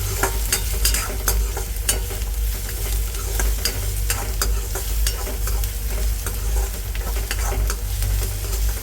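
Ginger-garlic paste frying with onions in a pan for Mumbai street-style ragda pattice, a steady close sizzle broken by frequent sharp scraping clicks of stirring, with no voices.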